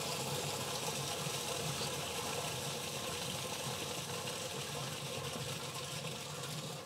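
Maxspect Jump DC return pump running at full strength pushes a strong steady rush of water through PVC plumbing, a constant broad hiss with a faint mechanical hum underneath, unbroken and close.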